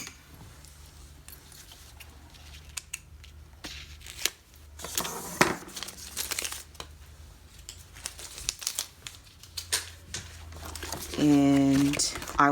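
Planner packaging is cut open with scattered crinkles, snips and taps of plastic and cardboard, then a louder rasping, rhythmic cut near the end, with a voice talking softly throughout.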